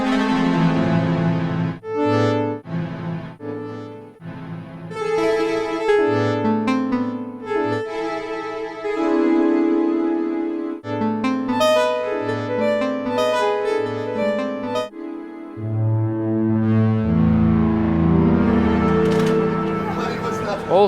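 Soma Labs Terra synthesizer, shown at Superbooth 22, plays layered tonal notes and chords through delay and reverb effects, with repeating echoes and a washy tail building toward the end; steady and fairly loud throughout, with no talking.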